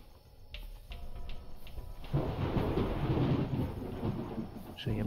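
Storm ambience in a horror game set aboard a train: a steady wash of rain with low rumbling thunder building after the first couple of seconds, loud and continuous, with faint game sounds and no speech.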